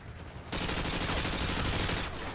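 Sustained fully automatic AK-74u fire in Modern Warfare 2 Remastered, a loud dense rattle that starts abruptly after a brief quieter lead-in and runs continuously for about a second and a half before easing off.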